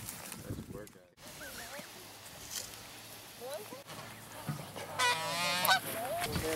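Several geese honk and call during banding, with repeated nasal honks in short bursts, some near and some farther off, louder toward the end and mixed with people talking.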